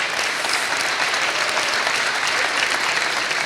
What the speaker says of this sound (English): you can hear by the applause you've got what people think of your answer